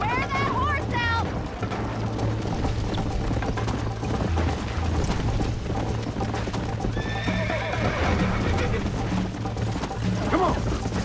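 Rhythmic hoof clip-clop of a galloping horse with a whinny in Red Dead Redemption, over steady game music and a voice speaking.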